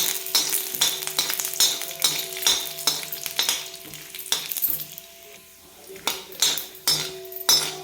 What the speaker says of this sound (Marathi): तेल गरम झाल्यानंतर थोडेसे एकदम शेंगदाणे मी याच्यामध्ये तळून घेणार आहे